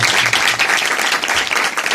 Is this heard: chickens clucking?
no